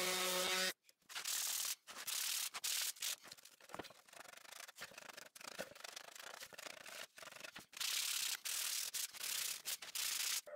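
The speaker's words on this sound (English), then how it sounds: "I ended up sanding to 240 grit by hand after." Pallet hardwood sanded by hand with fine-grit sandpaper for a step stool top, a steady run of close, loud rasping strokes broken by short pauses, with no talking.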